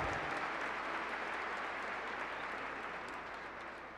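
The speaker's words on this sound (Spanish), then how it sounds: "Un fuerte aplauso." Strong applause from a church congregation during Mass, a dense, steady clapping wash that carries loudly throughout and slowly eases toward the end.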